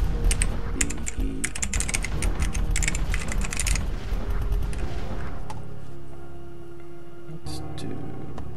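Rapid clicky typing on a hand-built mechanical keyboard while playing the ZTY.PE typing game, dense bursts of close key presses that thin out into scattered clacks and a lingering tone near the end.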